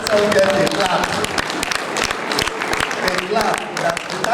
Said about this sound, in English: Let's all get a clap.